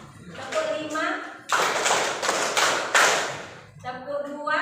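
A cluster of sharp, close hand claps sounds in a counted sequence during a classroom clapping exercise, with spoken counting before and after the claps.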